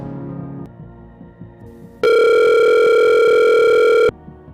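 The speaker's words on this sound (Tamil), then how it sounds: "சரி, நம்ம ஃப்ரெண்டு ராஜாவுக்கு தான் ஃபோன் பண்ணி பார்ப்போம்." A loud, steady electronic phone tone sounds for about two seconds while a call to a friend is placed, starting abruptly and cutting off cleanly after a quieter lead-in, with no talking.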